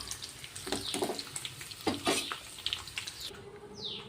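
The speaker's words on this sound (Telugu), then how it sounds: "ఇదే నూనెలో మన తాలింపు వేసుకుందాం" Whole spices such as cumin, bay leaf, cinnamon, cloves and cardamom hit hot oil for dum aloo tempering, producing close, continuous sizzling and crackling with bursts of spattering.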